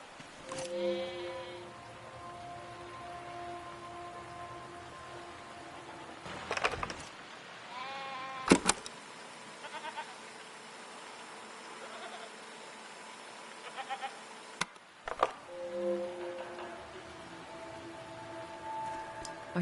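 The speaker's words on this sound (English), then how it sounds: "What are these strange goat-like creatures?" Goat-like creatures bleating in the video game Seasons, several repeated harmonic calls near and fairly clear, spaced through the scene with soft ambient background and occasional clicks.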